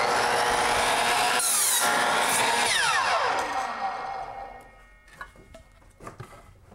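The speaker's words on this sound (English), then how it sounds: "What I'm doing is attaching all of the boards using screws." A power drill drives screws into boards for a simple wooden shelf frame, its high whirring motor loud and sustained for several seconds before winding down into a few sharp, scattered knocks and clatters.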